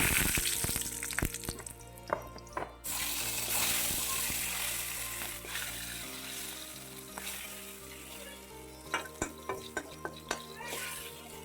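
Cumin and fenugreek seeds dropped into hot oil for khichuri sizzle loudly and continuously, crackling with sharp pops and stirring clinks, easing briefly before flaring up again.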